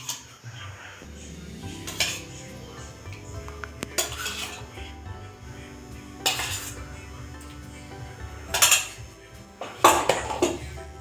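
A spoon scraping and clinking against a bowl while dai pitha batter ingredients are mixed, with irregular knocks and rattles recurring through the stretch, close and fairly loud, no talk.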